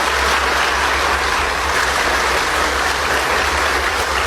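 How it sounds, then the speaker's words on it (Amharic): Dense, steady applause from a studio audience at a television talk show, loud and continuous throughout with no break. "ይህ ሁሉ ጭብጨባ ለምን ይመስላችሁ?"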